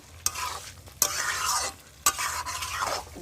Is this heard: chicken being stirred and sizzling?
yes